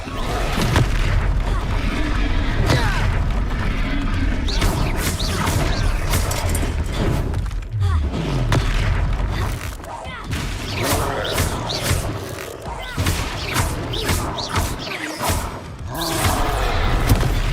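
Spell impacts from Confringo and Sendo blasts crash and boom repeatedly through combat in the Hogwarts Legacy video game, loud and dense over a busy game mix with voices calling out.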